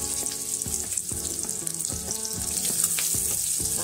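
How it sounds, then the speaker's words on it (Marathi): Large chunks of onion fry in hot oil with a loud, continuous sizzle, broken by repeated scraping stirs that land at a roughly regular beat, and nobody talks. "आता याच तेलामध्ये आपण कांदा घालून घेणार आहोत।"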